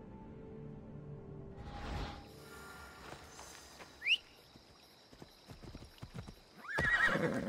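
Horse hooves clop along amid game sounds in the video game Assassin's Creed Odyssey, with a sharp whoosh midway and a loud neigh near the end.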